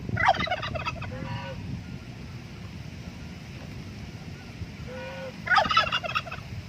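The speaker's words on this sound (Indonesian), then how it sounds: "Kita ditemenin Om Kalkun," Turkey gobbling near a fishing spot outdoors: two short bursts of rapid, warbling gobbles a few seconds apart, moderately close, over light wind noise.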